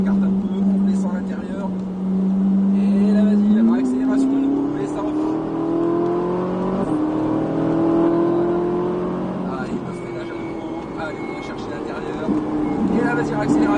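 A high-revving Ferrari 458 engine accelerates hard on a race track, its pitch rising through several gear changes, loud and close, with a voice talking over it.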